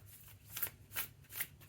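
A tarot card deck is shuffled in three quick riffling bursts, the cards sliding over one another in soft, close papery rustles with brief pauses between them, and no talking.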